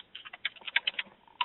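Quick, light keystrokes on a computer keyboard during an online chat, a brief irregular patter of clicks heard close and fairly quiet, with no voices.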